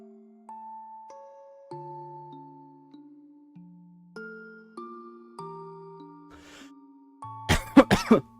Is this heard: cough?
yes